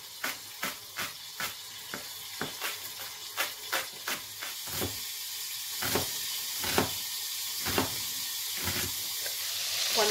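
Chicken pieces brown in a pan for a brothy rice dish, giving a continuous hissing sizzle, close and steady, punctuated by regular clicks and scrapes of stirring or turning that grow busier as the frying intensifies.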